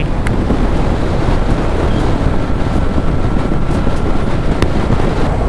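Heavy, constant wind buffeting roars against the rider of a Yamaha MT07 motorcycle at highway speed, a loud unbroken rush with no talk.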